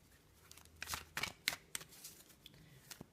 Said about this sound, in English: let's lay out another 5 cards and see